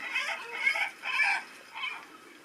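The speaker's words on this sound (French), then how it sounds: "Des mouettes." Seagull calls played back as a sound effect from a DY-SV5W audio board: three or four bright, squawking cries in close bursts, moderately loud, with no talk.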